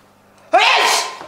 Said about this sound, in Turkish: Bana niye hapşırıyorsun ya?